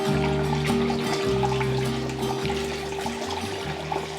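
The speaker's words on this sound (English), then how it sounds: "let's give that a rinse" Half a cup of basmati rice is rinsed in a perforated bowl under running water, giving a steady close trickle and splash with faint sloshing and no talk.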